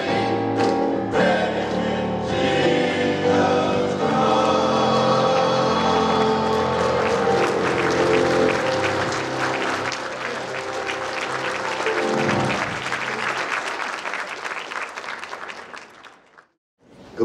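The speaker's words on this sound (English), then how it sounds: "I believe those good brothers will do another round of applause." Sustained applause at a chapter's annual MLK Jr. Unity Breakfast, loud and full at first, with music-like tones mixed in, then tapering off near the end.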